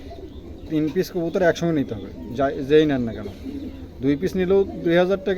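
Pigeons for sale cooing repeatedly, close and loud, in soft rhythmic throaty bursts while someone talks over them.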